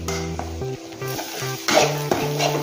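Potato curry being stir-fried in a pan, with a spoon scraping and clinking against the metal in uneven strokes over a steady sizzle and background hum, close and moderately loud.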